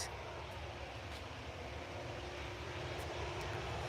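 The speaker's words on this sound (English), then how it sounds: "looks like a Dreamliner. We'll wait till it gets a bit closer." Boeing Dreamliner airliner approaching at Manchester Airport, a steady, broad roar of jet engines that holds evenly throughout, moderately loud with no talking.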